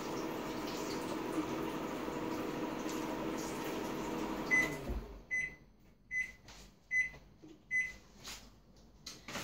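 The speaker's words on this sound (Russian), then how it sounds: "Так, ну я помыл ложку под водой." Running tap water pours steadily for a few seconds over a spoon being rinsed, then stops, followed by several soft clinks and knocks spaced about a second apart.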